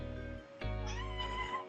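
A house cat meows loudly and close by in a drawn-out, wavering call, a short break dividing it from a second rising, caterwauling meow, with no talk over it.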